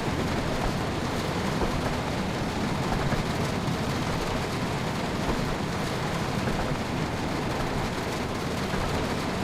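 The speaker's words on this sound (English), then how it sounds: "That rain's getting annoying now." Heavy rain falls in a train simulation game, a loud, dense, unbroken hiss of rain drumming on the surface throughout with no voices.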